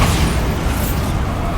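Bombarda blasting spell going off in Hogwarts Legacy, a dense, loud, rumbling burst of explosive noise that fills the whole short moment with no clear break.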